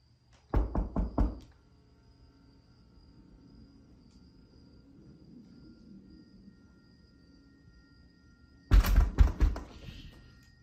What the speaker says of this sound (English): Someone started to bang on the front door